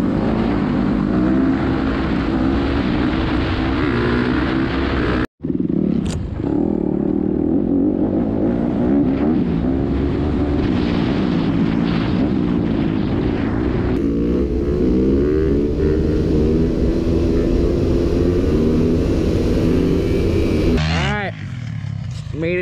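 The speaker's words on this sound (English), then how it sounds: "gonna burn some motos in before we do a little trail ride" Dirt bike motorcycle engines idle and rev steadily and loudly on a hill trail outside, with a brief drop near the middle and a surge near the end, while people talk over the noise.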